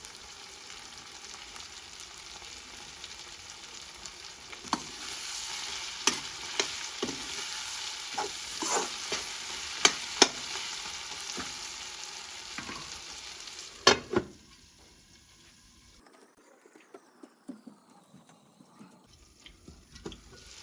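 Duck meat sizzles steadily in hot oil with meat masala in a pan while a utensil stirs it in repeated scraping clicks. After about fourteen seconds the frying drops to a much quieter, sparse crackle.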